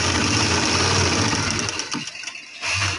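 A sewing machine stitches kurta fabric with a fast, steady mechanical whir close by, briefly slowing and stopping before it runs on again.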